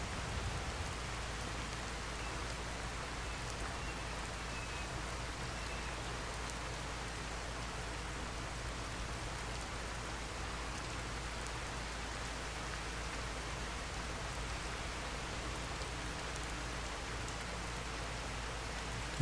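Heavy video-game downpour in the Cloud District, a steady dense hiss of rain falling on surfaces that holds even and continuous throughout, with no voices.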